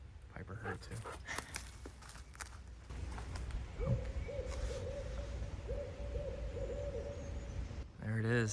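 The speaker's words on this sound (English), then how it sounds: "There it is, that's a barred owl." Owl hooting in a rhythmic series of calls drifts in partway through, sounding moderately distant, with rustling footsteps and bits of talk before and after.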